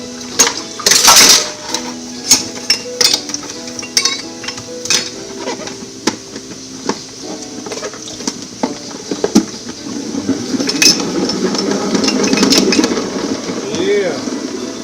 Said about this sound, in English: Donnie's going to spin that salad